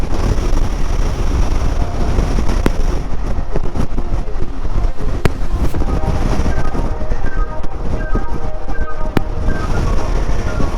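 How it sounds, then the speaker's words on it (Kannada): Strong coastal wind on the narrow road to Dhanushkodi, with open water on both sides, roars steadily and loudly into the microphone with constant low buffeting and gusty rumble throughout, and no voices over it. "ಗಾಳಿ ತಡ್ತಾ ಇದೆ ಹಂಗೇನೆ ಒಂದ್ ಕಡೆ."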